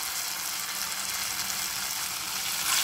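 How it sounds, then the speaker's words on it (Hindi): Moong pathori pieces frying in oil previously used for frying onions, giving a steady, even bright sizzle that holds throughout with no talk. "जिस तेल में प्याज फ्राई की थी उसी तेल में हम इस पठोरी को भी फ्राई कर लेंगे"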